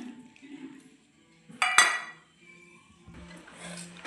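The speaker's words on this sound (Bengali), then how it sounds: "দুটো থালা নিয়েছি, একটা গজুর আর একটা চন্টর।" Plates clinking and clattering as food is served in a home kitchen after frying chillies, one sharp burst of dish noise standing out between quieter rustling, with faint household sounds around it.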